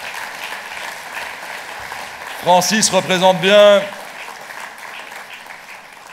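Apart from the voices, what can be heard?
audience applause for Francis Delperrey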